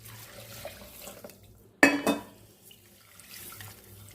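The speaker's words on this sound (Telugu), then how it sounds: "సేమ్ కప్పుతోని త్రీ కప్స్ అనేది వాటర్ యాడ్ చేసుకుందాం" Water is poured into green gram dal for cooking, three cups' worth, as one short, sharp splash that quickly fades in an otherwise quiet kitchen.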